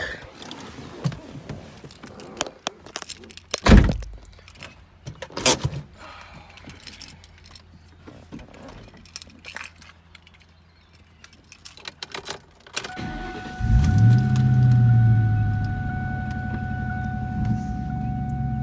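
A 2003 Ford Mustang GT V8 is cranked and fires up after keys jangle and cabin clicks, the starter catching and the engine settling into a loud, steady, rumbling idle close by.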